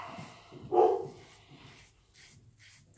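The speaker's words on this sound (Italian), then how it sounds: "c'è il mio cane che abbaia per la gioia dei vicini" A single bark from a male dog rings out at moderate distance, followed by quieter background noise and faint shuffling.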